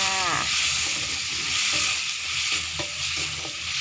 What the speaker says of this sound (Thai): ผัดเครื่องในให้สุกก่อนจังใส่ผัก